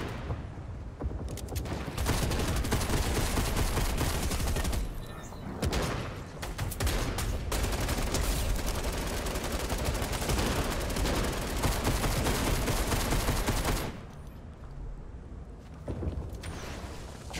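Gunfire rings out in a Call of Duty–style Fortnite domination match in Unreal Engine 5, with dense bursts of shots and booms filling the scene loudly, a sniper among them, a brief lull midway and a quieter stretch near the end.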